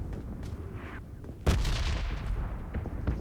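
Gunfire during a firefight in the mobile game PUBG Mobile, a few faint shots followed by one loud sharp blast and a lingering rumbling echo, with more distant shots after.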